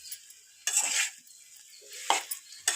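A ladle stirs tapioca in a pan, producing three distinct bursts of scraping and clinking separated by quiet gaps, close and fairly loud with no voices.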